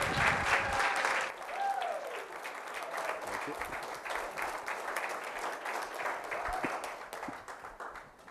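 An audience at a university invention and innovation awards demo day cheers and applauds to welcome a speaker, with a dense, sustained wash of clapping and a brief whistle early on that carries on steadily to the end.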